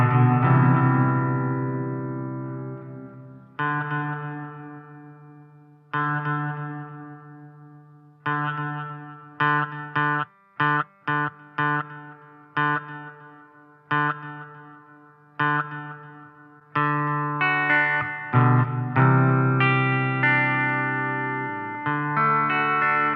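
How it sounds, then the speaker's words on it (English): Electric guitar played through a Fender Champion 20 amp with delay and reverb, clean plucked notes and strummed chords in separated phrases, each ringing out and decaying with echoing tails, loud and close with no talking. "I'm going to use the delay and reverb setting again, and I'm going to adjust the effects level down to where I want it."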